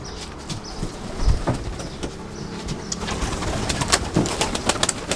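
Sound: pigeons cooing

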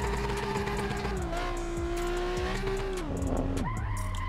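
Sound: Nissan 350Z drifting with tire squeal in the video game Assetto Corsa

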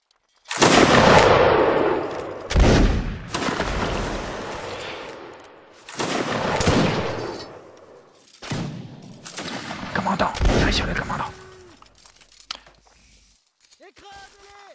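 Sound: musket line volley firing in Mount and Musket video game

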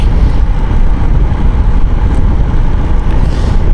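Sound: motorcycle (4V bike) engine while riding

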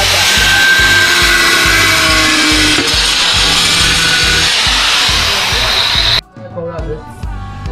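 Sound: saw cutting bathroom tile

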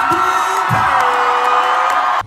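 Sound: concert crowd cheering for the guitarist

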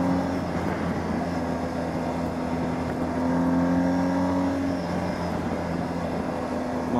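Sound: BMW R1250GS Adventure motorcycle boxer twin engine on highway

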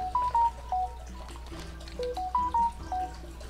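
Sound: mobile phone sound

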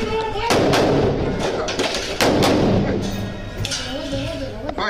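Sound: grenade explosion and gunfire during armed confrontation

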